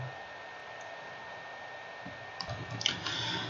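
A computer mouse clicks on a login option, giving a few soft, close clicks near the end against a quiet background hum.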